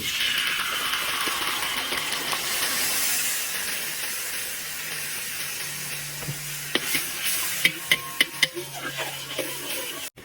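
Pork and sausage stir-fry with soybean paste hiss and sizzle steadily in a pan, the frying fading slightly before a run of sharp utensil clacks near the end.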